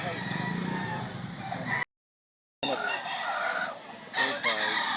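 A rooster crows loudly close by, breaks off for a short silent gap, then crows and clucks again while people talk nearby.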